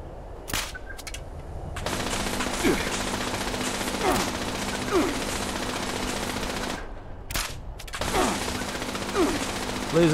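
Rapid bursts of laser turret fire from Fallout 76 crackle in dense volleys with brief pauses between, loud and close against a backdrop of game effects.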